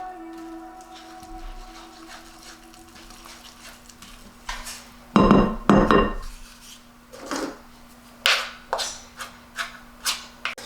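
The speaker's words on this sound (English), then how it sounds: "And mix it up until just combined." A spoon stirs drop-biscuit batter in a bowl, making close, irregular scraping strokes with a few sharper clinks against the bowl. No voices are heard.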